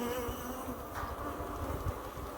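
Africanized honeybees swarm around a hive frame holding nectar, a close, dense buzz that holds steady throughout with small flutters, and no voices.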